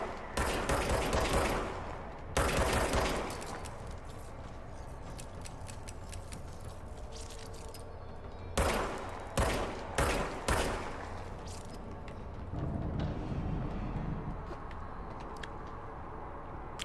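Rapid bursts of video-game gunfire from a weapon in Control, loud and up close, with repeated volleys and short pauses between clusters of shots over a steady background rumble.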